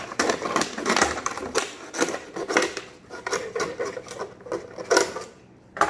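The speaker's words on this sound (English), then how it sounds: "open the pen knife and then find about half of the bottle, alright, and make a cut all across the bottle" A pen knife cuts across a plastic bottle, giving a busy run of scraping, crackling and clicking strokes that come close and fairly loud, in uneven bursts with short gaps.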